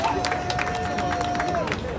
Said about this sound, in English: Can we give a round of applause for Neve, please?